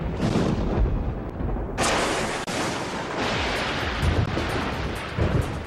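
Thunder during a lightning storm: a long, deep rolling rumble with a sharper crack partway through, loud and continuous with several swells, no voices.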